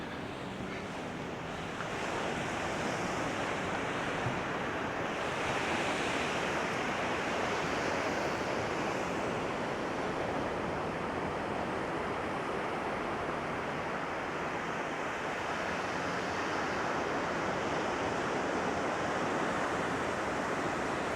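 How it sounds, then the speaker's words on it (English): Ocean surf on a beachfront at Padaro in Santa Barbara, a steady wash of breaking waves and wind rumble that continues unbroken, moderately loud with no voices. "all you're gonna hear is this ocean out here"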